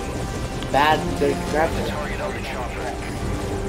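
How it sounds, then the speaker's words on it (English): A helicopter landing in the video game Metal Gear Solid V gives a continuous rotor and engine drone throughout, while someone talks briefly over it. "Helicopter. I was gonna say move them. There's something obstructing the landing."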